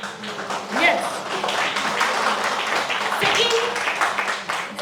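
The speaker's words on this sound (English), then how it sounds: "Give a big round of applause, please." An audience at a college literary week prize ceremony bursts into sustained clapping and applause, with a voice speaking over the crowd throughout.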